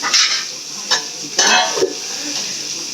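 Fish fries in a pan with a continuous close sizzle, broken by a few sharper scraping or stirring clatters from a utensil against the pan.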